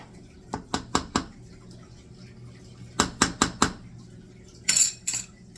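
A spoon scrapes and clinks against a cooking pot while sugar is stirred into spaghetti sauce on a very hot stove, sounding in two bursts of four quick, close strokes, then a brief louder scraping near the end.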